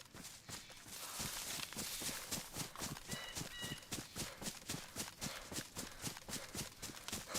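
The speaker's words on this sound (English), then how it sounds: "do you just hear like 3 sets of footsteps?" Footsteps of several players in a shooter video game, a quick steady run of thudding steps close by and fairly loud, with no talk over them.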